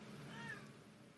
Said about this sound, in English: Chili, stop meowing.